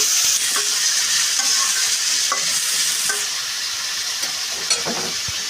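Pumpkin pieces fry in a pan with a loud, close sizzle, broken by frequent scrapes and clinks of a spatula as they are stirred.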